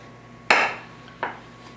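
A cake pan turned over onto a plate in a home kitchen gives two clattering knocks, one sharp and loud, then a softer second clink a moment later, close by with no talk.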